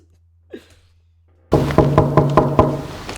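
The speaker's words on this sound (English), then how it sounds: "I'm knocking on the other doors" Knocking on a door on a Scottish housing estate, a brisk series of about six hard knocks after a quiet moment, close and loud.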